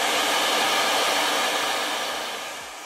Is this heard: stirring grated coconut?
no